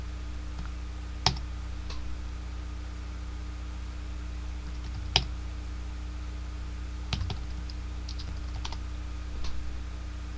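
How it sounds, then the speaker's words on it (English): Typing on a computer keyboard during an Arduino serial communication tutorial: a few sparse, close key clicks spread over a steady electrical hum, with no talking. "and I were to type in hello"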